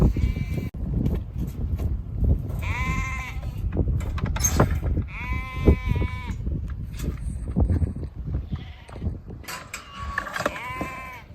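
Black-faced lambs bleating while being weighed for sale, several overlapping cries over clanking and creaking scale gear, close and busy throughout.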